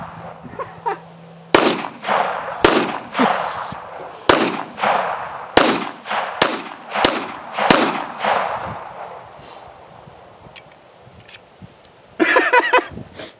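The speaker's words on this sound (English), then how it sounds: "I just did a mag dump into the pumpkin." Rapid gunshots fired at an apple and a pumpkin: about ten loud, sharp cracks in quick, uneven succession, each with a short echo, then a final burst of shots after a pause.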